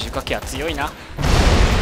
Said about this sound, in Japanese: おお、大爆発。